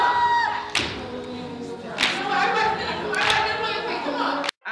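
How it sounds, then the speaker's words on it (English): An audience claps along at a live music performance, the rhythmic claps ringing out loud and close over the music and a crowd. "I need y'all to clap."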